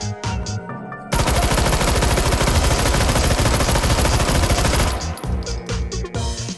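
A drum-magazine SMG in the video game H3VR fires one long, loud sustained burst of rapid automatic gunfire. Scattered clicks and handling noises come just before and after the burst.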